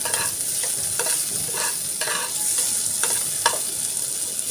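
Spiced ground peanut mixture with chilli and coriander is stirred and sautéed in a pan, a continuous sizzle broken by repeated scraping strokes of the spatula at a steady pace, close and fairly loud, with no talking.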